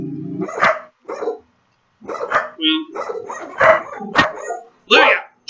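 Several dogs bark and yip in repeated close bursts separated by short pauses, with a person's voice mixed in among the barks.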